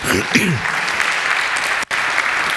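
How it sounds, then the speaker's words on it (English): A comedy show audience applauds, a dense, continuous burst of clapping heard close, with a brief voice at the start and a short dropout near the end. "Give him an applause, please."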